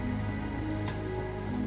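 Steady rain falls over a settlement in the video game Endzone: A World Apart, a soft continuous hiss with a low hum of game ambience underneath and no talking.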